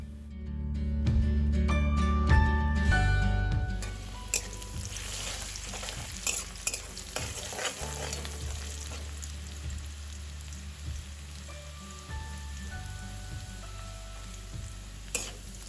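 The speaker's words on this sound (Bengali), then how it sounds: "আর কেটে রাখা পেঁয়াজ একসাথে কড়াইতে দিয়ে দিচ্ছি" Onions and whole cumin hit hot mustard oil in a wok (kadai) with a loud initial burst of sizzling, which settles into a steady crackling fry marked by scattered sharp pops and spatula scrapes. No one speaks.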